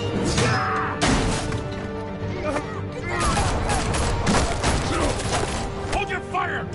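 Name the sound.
gunfire in the Batman: The Telltale Series video game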